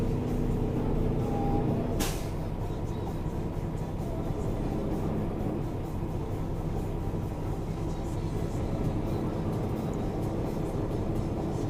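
A truck's air brakes release with one loud sharp hiss at a delivery site in Fontana, California, followed by a steady low idling diesel rumble and cab noise.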